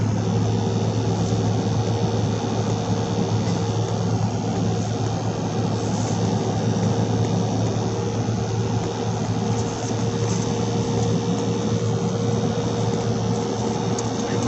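A 2016 Chevy Silverado 5.3 pickup's engine drones steadily from inside the cab, with a constant low rumble and road noise running throughout and no talking; the truck has a misfire fault.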